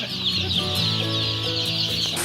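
Chickens on a farm set on high hills cluck steadily in a dense, continuous flock chorus, close and fairly loud with no talking.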